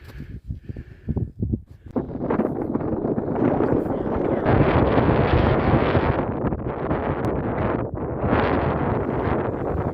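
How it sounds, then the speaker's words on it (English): Strong wind on a farm buffets the microphone in a continuous roaring rush after a few seconds of lighter gusts and handling thumps. "It's been a little windy here and there"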